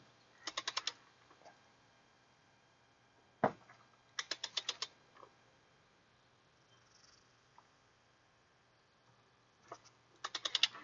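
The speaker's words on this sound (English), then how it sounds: "Next, we're going to torque these down." A torque wrench tightening valve cover bolts on a Chevy Trailblazer to 8 foot-pounds, giving short bursts of rapid ratcheting clicks separated by pauses and a single sharp click, close and quiet.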